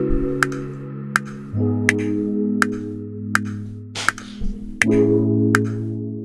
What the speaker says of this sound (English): I started the entire thing with this strong electric keyboard from Analog Lab 4.